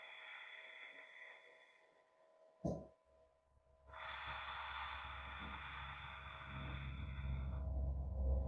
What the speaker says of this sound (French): Tout en gardant votre respiration Ujjayi ou votre respiration profonde et en conscience